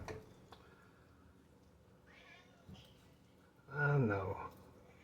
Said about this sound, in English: One of the cats I had to let in because it's so hot out there.